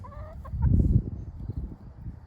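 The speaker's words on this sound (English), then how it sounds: "There's Big Bird and the little cute Cochin." A Cochin chicken clucks softly in a few short, low calls close by, with brief higher-pitched chirps at the start.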